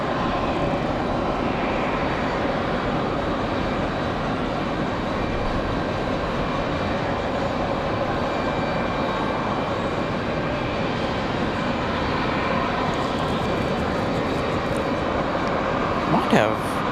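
Lufthansa Airbus A330 in from Frankfurt at Raleigh-Durham airport, a steady broad jet roar holding loud and even throughout, with a brief sharper burst near the end.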